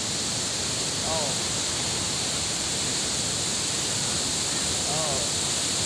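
Estrella Falls, a waterfall in Narra, Palawan, gives a steady, dense roar of falling water that fills the whole clip at an even level, with no talk over it.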